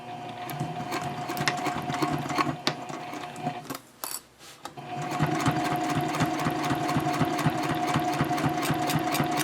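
A sewing machine stitches a messenger bag seam at stitch length 3.0, a close, steady mechanical chatter of rapid needle strokes that stops briefly midway, then resumes and runs on evenly.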